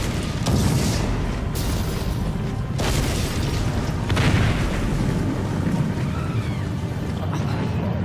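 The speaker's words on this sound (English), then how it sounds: "When the explosion rocked the halls of Asgard." Explosion rocking the halls of Asgard in a movie scene, heavy booming blasts and rumbling debris with several sharp bursts over dense, continuous low roar, loud and close.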